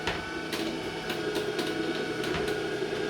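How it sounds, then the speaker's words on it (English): Cold press juicer grinding pineapples, a steady mechanical whirr with regular crunching pulses and rattles, close and continuous. "So this is basically a cold press juicer."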